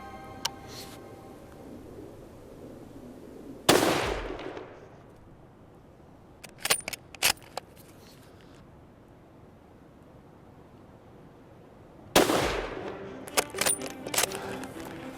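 Two loud rifle shots from a mule deer hunt in the British Columbia mountains ring out several seconds apart, each followed by a rolling echo, with faint clicks and rattles of the rifle action in between.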